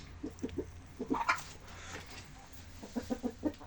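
Chickens clucking in a coop, a few short bursts of soft clucks spaced apart, fairly near, over a low steady background hum.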